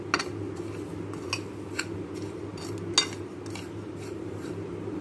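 A spoon stirs dry spices for mango and chili pickle, giving sparse light metallic clinks and scrapes against a bowl, close and fairly quiet over a steady low background hum.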